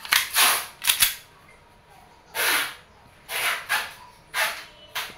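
WE 1911 Type D Classic airsoft gas blowback pistol firing, several sharp hissing cracks spaced irregularly across a few seconds, close and fairly loud with no talk.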